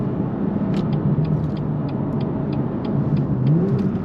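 Inside a BMW M2 LCI, 370 hp with manual gearbox and emptied muffler, the engine drones low and steady while driving, a faint turbo whistle rising near the end, with someone talking over it.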